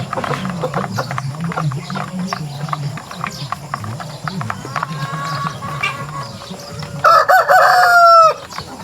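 A rooster crows loudly near the end on a rural farm with hybrid turkeys, after a stretch of low gobbling and clucking fowl sounds.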